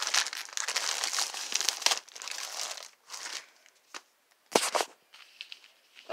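Plastic packaging around a folded 20-inch H2O Go classic beach ball being opened, with loud crinkling and crumpling in uneven bursts, a few sharp snaps and brief pauses between handlings, close up with no talking.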